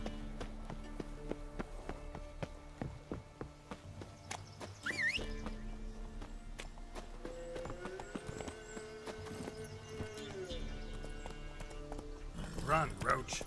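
Roach, the horse in The Witcher 3: Wild Hunt, runs with rhythmic hoofbeats and a brief whinny, mixed with game music and a player talking over it.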